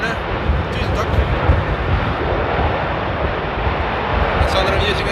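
A Turkish Airlines airliner at Amsterdam Airport during Storm Conall, a steady, dense engine roar mixed with gusting wind.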